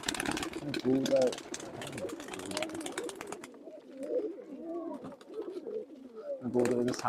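Old-bloodline pigeons from Khulna coo in soft, throaty, repeated low calls that rise and fall in rounds through the whole stretch, close by, with a faint mechanical hum underneath.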